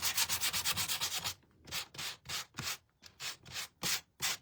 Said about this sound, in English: I am even distressing the insides a little bit